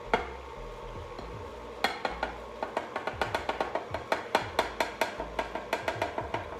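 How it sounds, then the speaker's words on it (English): An electric stand mixer set to low works through dough, giving a steady run of rhythmic thumps and scraping knocks at moderate volume, alone without talk. "you're gonna make sure to put your mixer on low"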